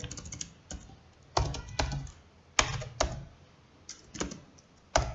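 Keystrokes on a computer keyboard while entering JavaScript code, irregular bursts of close, crisp clicks with short pauses between clusters, no talking.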